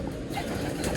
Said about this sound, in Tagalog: Kanina pa may nagliliparan dito Yung mga ibon ng kapitbahay